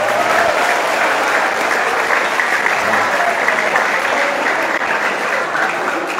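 Audience applause at a Teachers Day event at an Islamic boarding school, sustained loud clapping from a crowd with no break.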